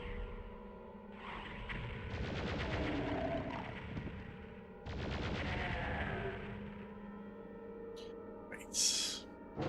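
Gunfire in Doom played on an original PS1, two long stretches of rapid repeated shots with rumbling impacts, fairly quiet overall and separated by a short pause, ending with a brief high swoosh.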